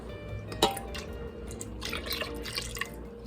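Evaporated milk poured from a can into mashed potatoes, giving soft wet drips and splashes with one sharper plop early on, close up and quiet, no talking.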